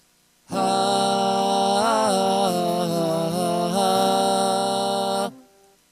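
One sustained sung note doubled by an added harmony voice from a VoiceLive 2 set to fixed key and scale, major 3 setting, slightly wavering in pitch, held for about five seconds before stopping cleanly.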